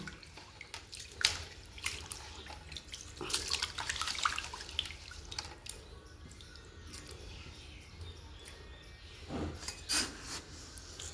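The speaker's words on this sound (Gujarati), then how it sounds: "ચોખ્ખા બરાબરના ચોખ્ખા ધોઈ નાખીશું આપણે સરસ મજાના." Rice for khichdi being washed by hand in water, with splashing, swishing and rubbing of grains in bursts, interrupted by quieter pauses and a final slosh near the end.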